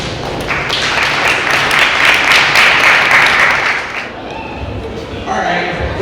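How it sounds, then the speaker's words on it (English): Audience applause for panelists at a youth anti-violence town hall in Pontiac, a steady mid-loud clapping from a crowd that fades after about four seconds, with thumps and voices over the tail. "All right, we please do another round of applause for our panelists and our community elect that came out tonight."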